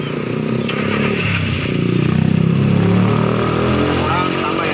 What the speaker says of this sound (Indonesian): Sekarang dihidupin mesinnya.